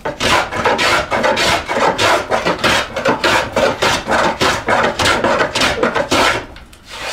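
A hand tool hewing and beveling a wooden panel across the grain, heard as about fifteen steady, rhythmic rasping strokes, loud and close, with no talk.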